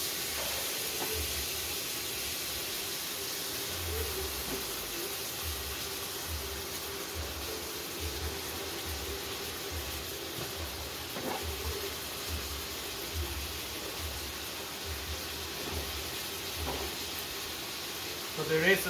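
Steak sizzling in a pan, a faint, steady hiss of frying running throughout with a few soft clicks, and no clear foreground event.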